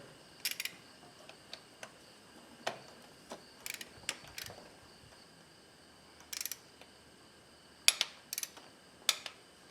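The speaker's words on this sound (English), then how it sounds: "Okay, then we torque it to 18 foot-pounds. Torquing the spark plugs. So got the torque wrench here." Torque wrench tightening spark plugs on a Toyota 3.3 liter V6 engine: scattered sharp mechanical clicks and ratchet ticks, some in quick clusters, near and moderately loud over a quiet background.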